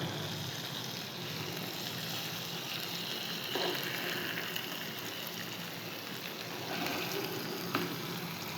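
Fish pieces fry in a pan of hot oil for a masala fish curry, giving a steady, dense sizzle and crackle that holds unbroken from start to finish with no talking over it.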